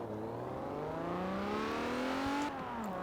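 A modified JDM car with a possible engine swap revs in Forza Horizon 4, its engine tone climbing steadily in pitch as it accelerates, then dropping briefly near the end, loud and alone.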